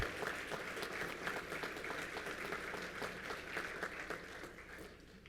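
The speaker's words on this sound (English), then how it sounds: "a round of applause for our Ira R. Herr Athletic Hall of Fame inductee, Steve Sanko." Steady applause from a large crowd at an athletic hall of fame induction, many hands clapping continuously at an even level before easing slightly at the end.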